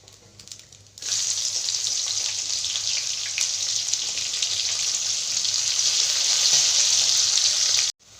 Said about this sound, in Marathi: त्याच तेलामध्ये आपण आहे ना आता कांदा परतून घेऊ आपण